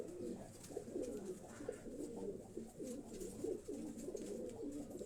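Pigeons coo steadily from close by in a loft of high-flying racing pigeons in Quetta. The soft, rolling calls repeat and overlap. No one talks.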